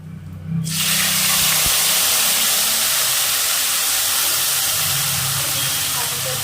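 Paste of ground cumin, ginger and coriander hitting a hot pan, bursting into a loud, steady broadband sizzle that holds strong and close for several seconds with no voices.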